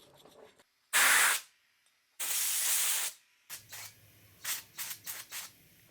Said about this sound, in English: So I'm just gonna blow these out, run some bolts up and down, make sure I get all the sand out